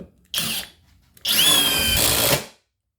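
A cordless drill drives a screw into hard wood in two bursts: a short whir, a brief pause, then a longer loud run that strains and slows before stopping, with no talk.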